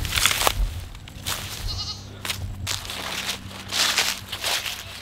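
A goat bleats a few times amid rustling and shuffling movement, with soft footsteps and farmyard noise around it.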